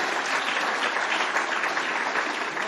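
Audience at a Dutch conference on spatial planning clapping after a panel of speakers, dense continuous applause filling the hall at an even loudness from start to finish.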